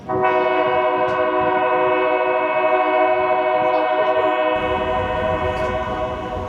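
A Royal Gorge Railway tourist train's sustained, loud horn-like tone rings steadily for several seconds, with rumbling rail noise underneath.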